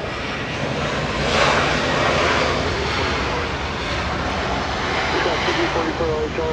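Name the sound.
airplane taking off from LAX to Guadalajara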